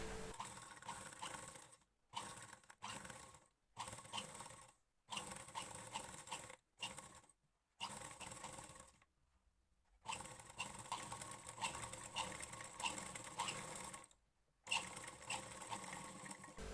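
A sewing machine stitches a buckram neck piece onto a blouse in quick whirring bursts, broken by short pauses and one longer gap, moderately near and fairly quiet.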